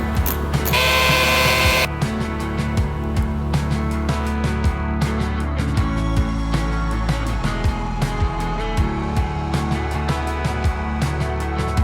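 Hand tapping of threads, run dry, into metal blade holders: repeated short metallic clicks and scraping ticks in an irregular rhythm, close and fairly loud throughout, with a burst of broadband noise near the start.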